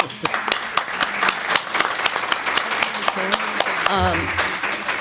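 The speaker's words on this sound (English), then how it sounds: "And you deserve the applause." An audience at a school board candidate forum in a library claps, with sharp individual hand claps standing out over a thinner crowd of applause, while a voice talks and some tonal sound rises near the end.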